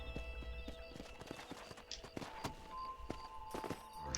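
Steady clip-clop of horse hooves at a walking pace in the video game Red Dead Redemption, with an occasional whinny over a low continuous background hum.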